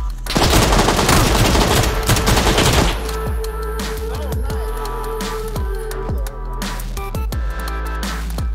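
Gunfire in the video game PUBG, a dense, loud burst of rapid automatic shots followed by scattered single shots and echoing impacts, with no talk.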